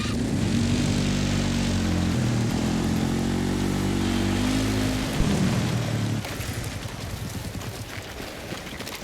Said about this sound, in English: Drone is out of bounds.